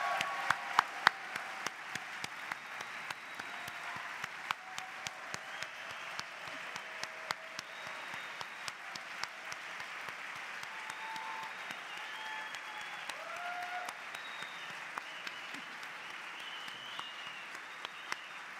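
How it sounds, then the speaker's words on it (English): A large crowd at the Hertie School graduation ceremony keeps up long, sustained applause, a dense even roar of clapping with occasional sharper nearby claps and faint voices mixed in. "give a round of applause for those who came to watch your achievements on screen or in the room today"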